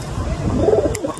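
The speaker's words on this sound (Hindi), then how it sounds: "अपने कबूतर दिखाता हूँ आपको।" A pet pigeon named Tiger gives a short, low throaty coo close by, a single brief murmuring call.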